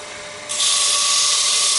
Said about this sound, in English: We sand the inside as well.